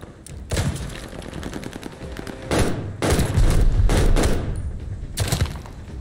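Call of Duty Vanguard gunfire, loud close bursts of automatic shots in several rapid volleys separated by short gaps, with booming impacts under them.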